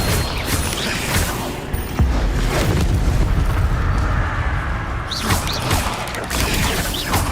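Incendio fire spell cast in Hogwarts Legacy, a loud roaring burst of flame with booming, crackling impacts that runs dense and continuous for several seconds, with a fresh swell of energy near the end.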